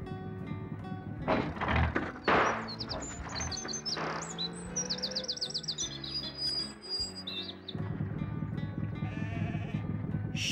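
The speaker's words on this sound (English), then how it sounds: "Sheep." Sheep bleating over a busy background of music and chirping bird calls, with several loud bleats near the start and no talking.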